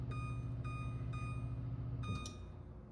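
Repeated electronic beeps from an oven timer sound in short bursts over a steady low hum while seed crackers bake, fading near the end.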